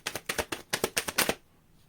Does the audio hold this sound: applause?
no